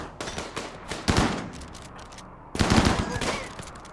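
Rapid bursts of shotgun fire from chain shotguns in the video game RimWorld crackle in dense volleys, pausing briefly before another loud salvo erupts.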